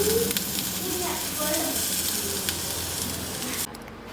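Koorka (Chinese potato) sautéing with masala in a hot pan gives a steady close sizzle and frying hiss with occasional stirring scrapes, continuous throughout before easing slightly at the end.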